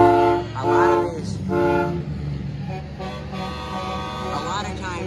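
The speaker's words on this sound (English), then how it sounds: "These are like Alco train horns." Loud multi-tone Alco train air horns mounted on a truck blast in several long blares during a truck show light parade, with a rising and falling chime and a voice speaking over them.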